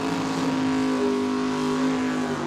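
Camaro drag car launching down the Tucson Dragway during a drag race, a loud, steady engine roar with a strong sustained tone and no break across the whole stretch.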